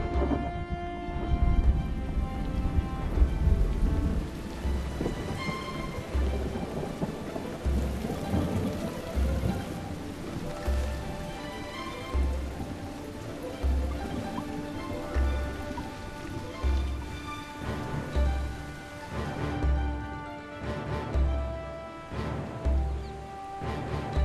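Heavy monsoon rain pours steadily across the dry lands of Sri Lanka, a dense close hiss of drops with low thunder rumbling underneath throughout.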